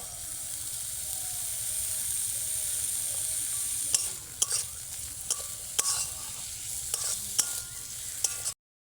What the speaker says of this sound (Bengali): টমেটোটাকে হালকা করে একটু ভেজে নিয়ে